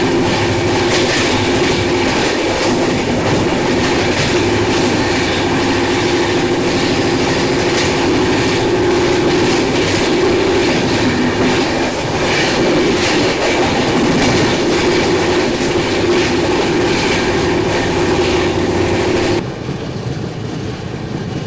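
Jammu Tavi Humsafar Express running at a steady 130 km/h, heard from inside: a continuous loud rumble of wheels and carriage with rhythmic clickety-clack over rail joints, alone throughout and dropping slightly in level near the end.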